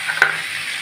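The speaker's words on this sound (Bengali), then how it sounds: "আমি এর মধ্যে তেজপাতা দিয়ে দিচ্ছি দুটোই মাছের তেলের মধ্যে" Two bay leaves drop into hot fish oil in a pan, giving a brief sizzling hiss with a small spike near the start, then a quieter steady fry.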